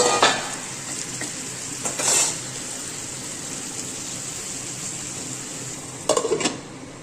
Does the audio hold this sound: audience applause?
no